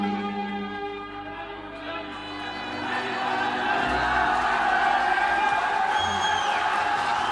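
A concert audience at a performance swells into loud shouting and crowd noise, rising over sustained orchestral tones and continuing as a dense roar.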